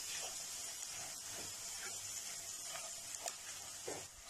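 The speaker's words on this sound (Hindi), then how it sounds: "तो मसाले को हमें अच्छे से भूनना है।" Dry ground masala spices roasting with potatoes in a pan over a medium-to-low flame for street-style bread pakora, giving a steady soft hiss and sizzle that runs throughout, with a few faint clinks and stirring scrapes.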